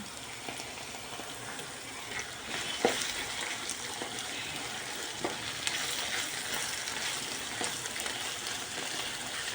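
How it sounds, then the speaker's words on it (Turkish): Minced meat sizzles and fries in a pan, a steady crackling hiss with occasional stirring scrapes, close and continuous with no talking. "Kıymalar şahane bir şekilde kavruldu."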